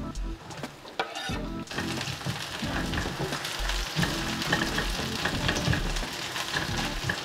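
Sliced large onion frying in sesame oil for a spicy prawn curry, a steady dense crackling sizzle with scraping stirs throughout, close and fairly loud with no voices.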